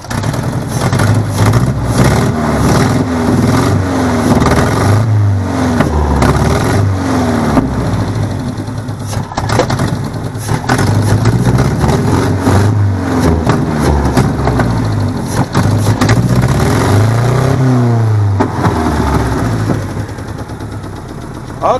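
A worn project car engine near the end of its life revs hard again and again, loud and close, rising and falling in repeated throttle blips over a rough, lumpy idle, with no talk.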